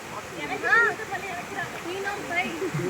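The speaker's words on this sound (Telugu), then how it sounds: "ఇక్కడ వాటర్ ఫాల్ సౌండ్ వినిపిస్తుందా చూడండి." A waterfall on a trekking trail roars as a steady, even rush of water, with voices talking over it.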